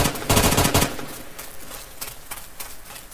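Gunfire from a gun in the Roblox game Randomizer: a dense burst of rapid shots up front, then a few scattered single reports trailing off, loud and close.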